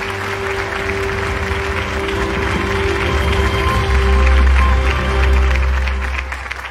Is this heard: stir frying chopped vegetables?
no